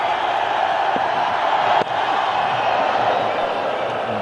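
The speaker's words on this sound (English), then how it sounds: "how this crowd loves it when the free hit is signalled" Stadium crowd at an India versus Pakistan one-day cricket international in Mohali roaring steadily as a free hit is signalled, a dense continuous swell of cheering with one sharp thump partway through.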